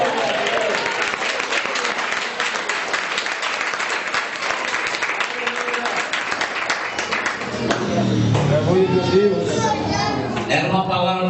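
Church congregation applauding at an evangelical service, a dense sustained wash of clapping across the room with voices mixed in, swelling louder near the end as singing or shouting rises.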